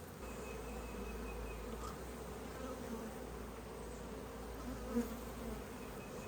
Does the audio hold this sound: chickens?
no